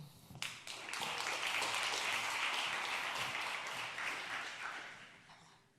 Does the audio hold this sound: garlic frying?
no